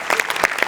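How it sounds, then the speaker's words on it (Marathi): Studio audience clapping for a writer on a Marathi comedy show, a brief burst of dense applause with quick overlapping claps close to the microphone. "याच्यात तुझ्या लेखकासाठी जोरदार टाळ्या एकदा."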